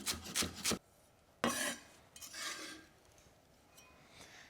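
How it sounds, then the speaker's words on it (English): Knife finely chopping herb stalks on a board, a few quick rasping cuts close up, then a pause and softer, sparser scraping strokes. "then finely chop my stalks"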